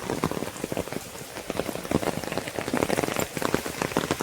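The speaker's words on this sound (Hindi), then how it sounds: "भाई बारिश की यो हालत हो रही" Heavy rain pours steadily onto surfaces during a long, continuous downpour, a dense, close patter of drops hissing without pause throughout.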